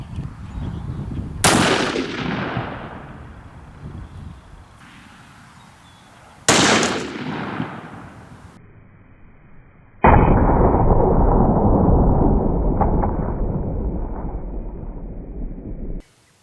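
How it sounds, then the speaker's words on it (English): A .500 Smith & Wesson Magnum revolver fired into ballistics gel outdoors, three loud, sharp blasts spaced several seconds apart, each followed by a ringing decay and echo. "now it's time for the 500 Smith and Wesson Magnum."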